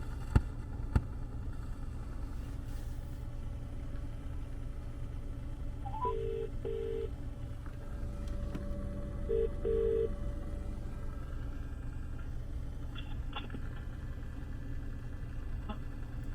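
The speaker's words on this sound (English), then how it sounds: "we're going to ring Oliver from it so you can kind of hear it." Faint repeated tones of a phone call ringing through a car stereo sound over a low steady car engine idle, with a few soft clicks and no talk.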